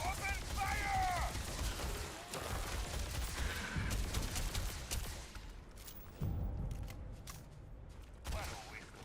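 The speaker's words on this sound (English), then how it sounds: "Open fire!" Gunfire rattles in the sci-fi video game Starfield, dense bursts of shots mixed with mechanical clatter and booms, loud and busy, with voices talking over parts of it.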